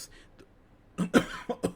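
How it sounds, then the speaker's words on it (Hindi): A few sharp coughs in quick succession from someone close by, following a moment of near silence. "सॉरी, खांसी आ गई दोस्तों।"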